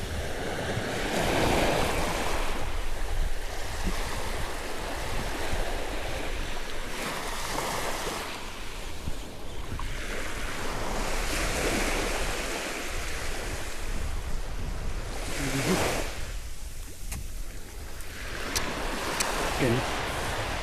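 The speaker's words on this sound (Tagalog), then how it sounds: "Naalon-alon na sa may batuhan." Sea waves break against a rocky shoreline, the surf swelling and crashing in repeated surges under steady wind noise, with faint voices near the end.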